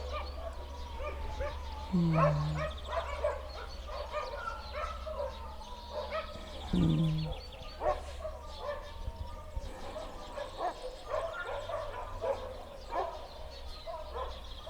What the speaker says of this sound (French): Il se passe un truc là, avec les chiens du coin.